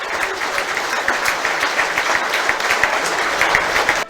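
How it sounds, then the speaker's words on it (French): A rugby crowd claps steadily and densely in a sustained minute of applause paying tribute to deceased club members before kickoff. "c'est une minute d'applaudissement pour en hommage à Bernard Lapassé et Aline Jansous de Rion qui sont décédés"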